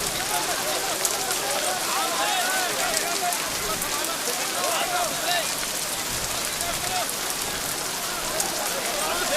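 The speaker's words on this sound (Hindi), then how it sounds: "बारिश आ गई।" Steady rain pattering on a surface, a dense hiss of drops throughout, while people speak and call out underneath.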